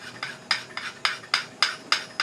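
Repeated strokes of a burnisher along the edge of a woodturning scraper to turn a negative-rake burr, about eight evenly spaced rasping metal-on-metal scrapes, close and clear.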